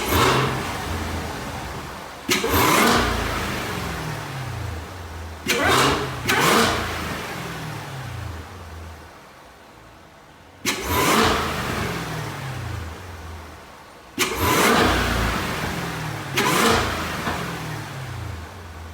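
A Cadillac CT5-V Blackwing fitted with a K&N air filter revs hard inside a closed garage, four loud throttle blips rising sharply and falling away between pauses of idle.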